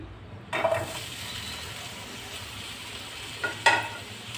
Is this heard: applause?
no